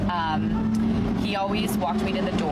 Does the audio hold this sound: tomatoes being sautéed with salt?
no